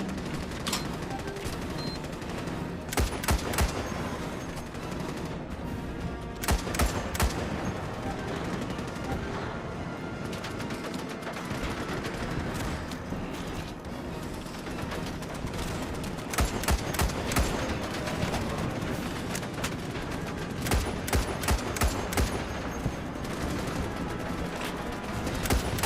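Rapid gunfire from swarming gun bugs in a video game, bursts of sharp shots over a steady background of game noise and music, with louder clusters of cracks recurring throughout.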